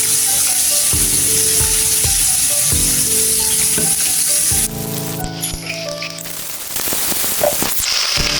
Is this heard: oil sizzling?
yes